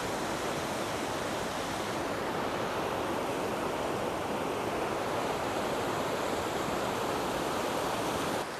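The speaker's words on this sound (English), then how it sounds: "This is beautiful, Bridal Veil Falls." Bridal Veil Falls, a waterfall among giant sequoia country, roars as a steady, loud, broadband rush of falling water that fills the whole stretch without pause, with no voices over it.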